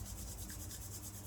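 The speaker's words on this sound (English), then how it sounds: "And rub your hands together." Hands rub together during a slow somatic yoga session, a soft continuous brushing friction that is close and quiet, with no voice over it.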